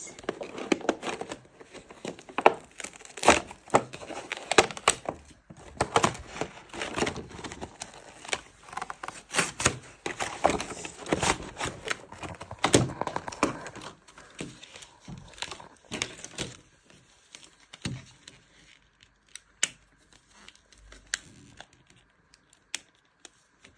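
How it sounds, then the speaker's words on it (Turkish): Crinkly plastic and paper rustle in rapid, uneven bursts as birthday gift packaging is unwrapped close by, growing sparse and quieter toward the end. "Bugün sizlerle birlikte doğum günü hediyelerimi açıyoruz"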